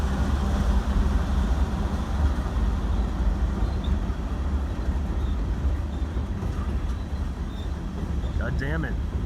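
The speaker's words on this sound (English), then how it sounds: "another junk train" A freight train rumbles past close by with a continuous low, heavy roar and faint rattling, the noise steady throughout; a brief squeal near the end.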